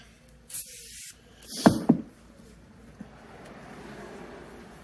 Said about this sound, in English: let me grab a window cleaner and a microfiber, get the last bit of that residue off. With a little sprayway.